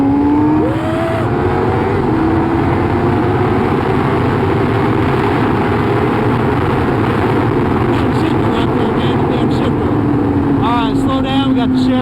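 A Honda CBR 600RR sport motorcycle fitted with a Power Commander 6 is being ridden, its engine a loud, steady drone under heavy wind rush, the pitch climbing and revving higher near the end.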